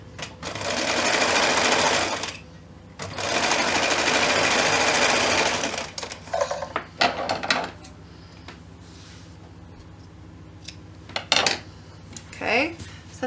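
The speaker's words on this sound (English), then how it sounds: "we're going to just stitch this right on the edge, not even quite a quarter of an inch" A sewing machine stitches along the edge of a fabric luggage tag in two long steady whirring runs, followed by quieter handling clicks and light rattles close by.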